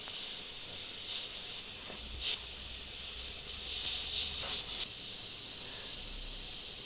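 An airbrush sprays paint in a steady, close, airy hiss, with a few short breaks and surges as the trigger is worked while detailing an evil clown figure with green flames.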